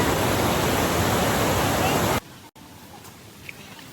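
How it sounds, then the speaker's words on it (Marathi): Kalu waterfall in a dense monsoon forest roars as a loud, close, hissing wash of falling water for about two seconds, then cuts abruptly to quiet background ambience. "तर तो आहे सुंदर असा काळू वॉटरफॉल"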